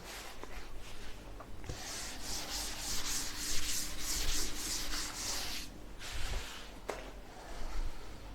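Writing on a classroom board is rubbed out in a long, steady scrubbing stretch, a soft dry hiss that swells and fades with a few faint knocks, fairly quiet and with no talking.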